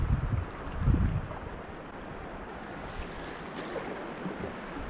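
A continuous rush of churning water roars steadily at Russell Rapids in spring flood, with low wind buffeting the microphone near the start.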